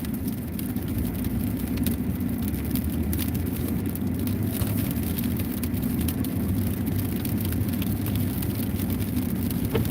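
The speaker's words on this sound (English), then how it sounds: "This is all sleet." Sleet falls steadily during a winter storm at about freezing, a dense continuous patter and hiss of icy pellets with a low rumbling background, loud and unbroken throughout.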